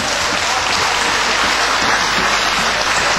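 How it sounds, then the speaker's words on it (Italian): An audience applauds continuously throughout, a dense and even wash of clapping from a crowd at a live show. "Do un grande applauso a Lucio Battista, dieci anni."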